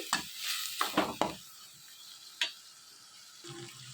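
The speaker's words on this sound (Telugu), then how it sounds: "ఇవన్నీ కూడా కలుపుకుంటూ కొంచెం సేపు మగ్గనివ్వాలి" A spoon stirs vegetables with coriander leaves cooking down in a pan for masala pasta, giving a few sharp scraping clinks over a soft, steady sizzle, close by with no talk.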